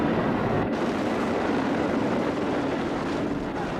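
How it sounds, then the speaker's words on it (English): A Soviet helicopter gunship circles over a prison in Kabul, its rotor and engine making a loud, continuous, rumbling drone that holds steady throughout, with no voices. "a Soviet helicopter gunship circled the prison"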